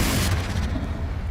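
A Confringo spell explosion in Hogwarts Legacy lands as a loud, low, rumbling boom that sustains through the short moment without fading away.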